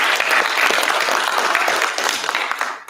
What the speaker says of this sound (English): Let's get another round of applause.